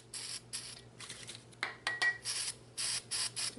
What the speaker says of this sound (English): Take a little this oil, spray it down the barrel.